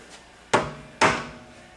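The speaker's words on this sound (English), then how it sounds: "take the hammer" Two sharp, loud hammer blows strike a milling machine spindle to pop out a machine taper, about half a second apart, each ringing briefly before fading.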